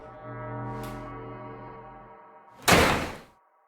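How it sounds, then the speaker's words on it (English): A single heavy door slams shut with a sharp, loud thud late in the clip, after a long low droning tone that fades away beforehand. "he returns inside and the door slams shut"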